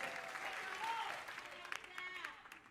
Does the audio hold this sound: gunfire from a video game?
no